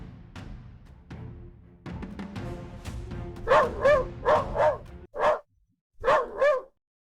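A small dog barks indoors, at first low and scattered with a few soft yips, then a run of sharp, close barks in quick pairs with short silent pauses between them.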